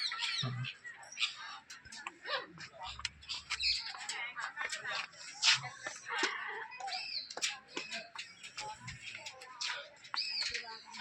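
Harsh, repeated parakeet squawks and chirps come in rapid bursts, close by, with people talking faintly in the background.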